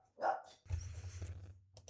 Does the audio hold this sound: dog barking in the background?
yes